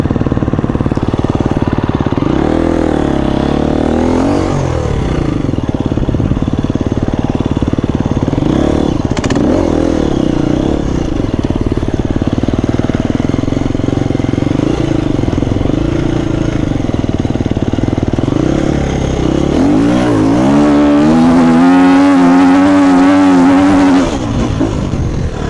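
A 250cc motorcycle engine revs steadily under throttle on a climb, a constant droning note that rises into harder, higher revving toward the end, loud and close with no talk.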